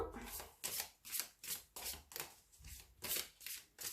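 Deck of tarot cards being shuffled and cut by hand, a run of about ten crisp riffling bursts in an even rhythm, close and fairly soft, with no talk.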